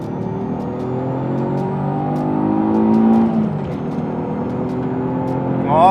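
An Alfa Romeo GTV V6 with the Busso engine accelerates at full throttle, its engine note climbing steadily and loud, heard from inside the car, with a brief shift partway through.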